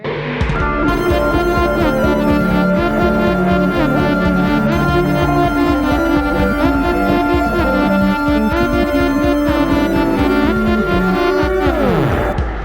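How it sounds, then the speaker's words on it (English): Dense, swelling guitar music with reversed-sounding notes that fade in rather than decay, playing continuously and loudly before a falling swoop at the end. "But equipped with Sonic's new backwards guitar,"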